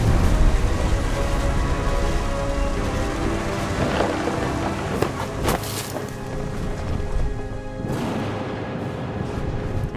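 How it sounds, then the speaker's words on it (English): Thunderstorm in the video game What Remains of Edith Finch, with steady loud rain and rumbling thunder, and sharp cracks that stand out from the constant downpour. "The thunder sounded much too close and full of angry power."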